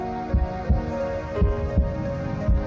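A heartbeat thumps in paired low beats, a lub-dub repeating steadily about once a second, loud and close over a sustained tonal hum.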